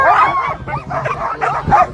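Sled dogs barking and yipping at the start of the Copper Basin 300 Sled Dog Race, a loud close chorus of excited barks and whines in several bursts.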